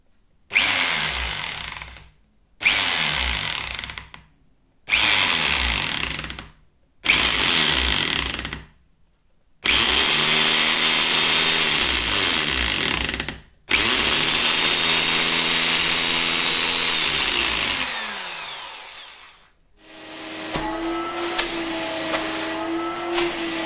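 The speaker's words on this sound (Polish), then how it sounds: "Na początku najlepiej użyć takiego wiertła o mniejszej średnicy" A power drill with a small-diameter bit drills into a wall in repeated bursts, several short whines separated by pauses, then longer sustained drilling with a strained, grinding tone, close and loud.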